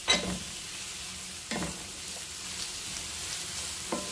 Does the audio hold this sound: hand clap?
no